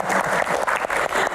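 Indoor audience at a health Q&A session clapping hands in a brief burst of applause, dense and fairly loud with slight rhythmic pulsing.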